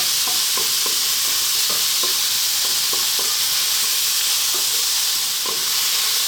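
Sliced onion stir-fries in a pan over high heat, giving a steady loud sizzle and hiss, with regular scraping clicks from stirring throughout.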